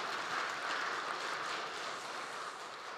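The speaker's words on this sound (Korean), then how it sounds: "이럴 때 박수 한번 치셔도 좋습니다." A church congregation gives a steady round of applause during a Sunday worship service, a soft, even patter of many hands heard from a distance with no voices over it.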